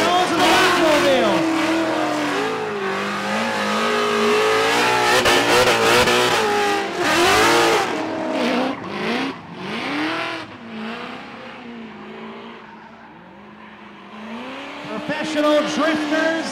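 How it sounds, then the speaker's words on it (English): Pro drift cars, including a Mustang, rev hard and squeal their tires at Rockford Speedway, the engine pitch rising and falling in long sweeps with skidding screeches, loud and close, while someone talks over part of it. "These are pro drifters."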